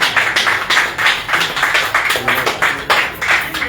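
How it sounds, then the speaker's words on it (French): Crowd at a political prisoners' release gathering clapping in rhythmic bursts, a dense near wash of hand claps pulsing roughly twice per second throughout. "applaudissez pour vous-même"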